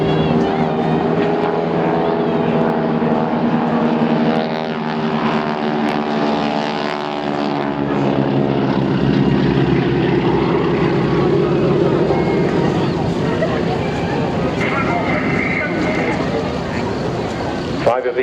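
Display aircraft roar overhead at the Eastbourne airshow, a loud, sustained engine drone that rises and shifts in pitch as the planes pass, with a commentator talking over the PA throughout.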